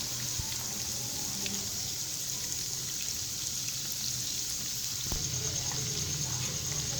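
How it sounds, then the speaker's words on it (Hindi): Chicken pakora pieces fry in hot oil with a soft, constant sizzle and scattered light pops, fairly quiet throughout, with a couple of faint clunks. "दूसरी साइड से भी हम इसे अच्छी तरह फ्राई कर लेंगे।"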